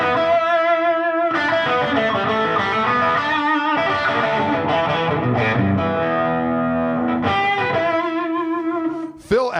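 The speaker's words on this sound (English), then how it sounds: "when you put a little slapback delay on, you ditch the reverb, and it just is much more effective" Electric guitar played through a slapback delay with no reverb, a distorted, twangy lick of sustained notes and short phrases with a quick single echo, close and loud, ending with an abrupt thump.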